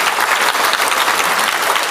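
Dense applause from an audience at a public forum on extremism in Malaysia, steady and loud, filling the whole moment with no talk.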